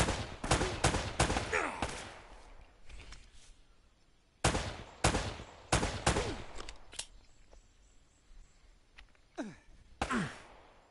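Gunfire in the game Uncharted, several bursts of close, loud shots in clusters separated by short pauses, with breathy gasps between.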